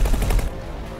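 Rapid gunfire from a spaceship's secondary weapon in X4 Foundations, a brief loud burst of repeated shots that cuts off quickly into a lower hum.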